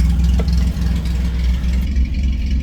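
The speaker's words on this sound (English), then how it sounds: "it's a bit choppy with that exhaust exiting down there" A Ford Granada's V6 engine idles steadily with a deep, uneven, choppy exhaust burble, continuous and fairly loud throughout with no talking.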